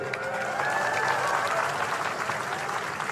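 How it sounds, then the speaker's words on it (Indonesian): An audience of participants at an event led by a speaker on stage breaks into applause, a dense, sustained wash of clapping from a large crowd with faint voices mixed in, holding evenly throughout. "Tepuk tangan semuanya, keren."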